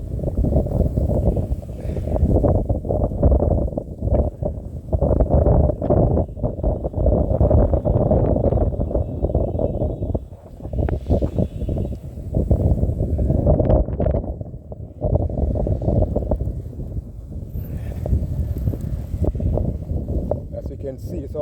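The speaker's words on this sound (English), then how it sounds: "Today the snow is not as bad as Tuesday, but it's just blowing all the time, constantly." Strong wind gusts roar almost continuously across the microphone during a Toronto snowstorm with blowing snow, a loud, rumbling, buffeting wash with brief lulls.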